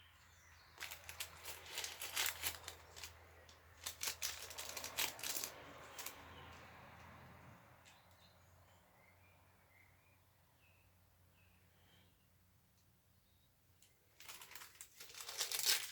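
A large plastic bag is handled outdoors during cactus pollination, giving bursts of crinkling and rustling near the start and again at the end, with a quieter stretch of faint background noise between.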